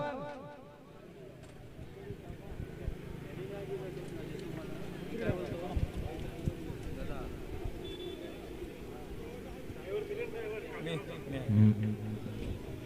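Bullocks' hooves pound rapidly as racing bullock carts rumble past, nearly buried under a loud, continuous commentary voice and crowd noise.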